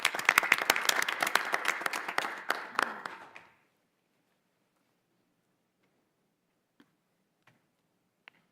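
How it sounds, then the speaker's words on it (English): A school board meeting crowd gives a round of applause, dense clapping for about three and a half seconds that stops abruptly, then near silence with a few faint isolated clicks. "Let's give him a big round of applause and welcome him to the podium."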